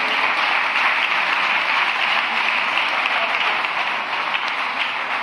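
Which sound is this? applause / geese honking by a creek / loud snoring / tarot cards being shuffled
applause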